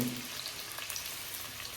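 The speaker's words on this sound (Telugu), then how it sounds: "ఇక్కడ పచ్చిమిరపకాయలు ఉల్లిపాయలు వేస్తున్నాను" Green chilies and onions frying in a pan of oil with whole spices already added, giving a steady, close hiss and crackle of sizzling with no voices.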